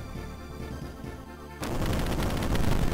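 Crash Kirby's explosion power-up in Kirby Super Star Ultra sets off a sudden, loud, rumbling blast halfway through. Dense crackling booms fill the rest, following calmer game sounds.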